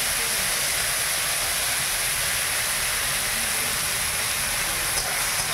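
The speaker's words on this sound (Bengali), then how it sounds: "তারপরে যে হলুদ দিলাম, হলুদ দিয়ে ভেজে নিই ভালো করে" Pond snails fry with turmeric in a pan, giving a dense, even sizzle and hiss that holds at a constant loudness throughout, with no voices over it.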